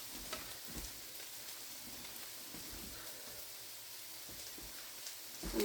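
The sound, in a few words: food frying in a pan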